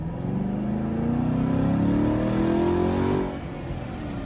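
Race cars lapping the tight bullring track at the LA Coliseum, a loud engine whine climbing steadily in pitch before dropping off sharply as they slow, with a steady roar continuing underneath.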